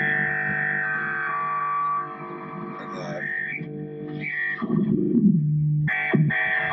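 A Z-Vex style fuzz guitar pedal self-oscillates: a loud, buzzy distorted drone with sweeping, warbling pitched tones that dive and rise. A voice is briefly present underneath.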